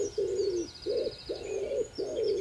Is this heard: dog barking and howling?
no